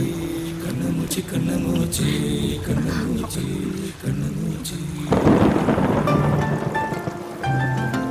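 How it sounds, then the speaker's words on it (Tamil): Rain and thunder in a scene from a Tamil action crime film. Voices or music with a tonal pitch carry the first few seconds, then a loud, broad wash of rain rises and holds steady, with low rumbling. "உனக்கு மழையில நனையறதுனா ரொம்ப பிடிக்குமா"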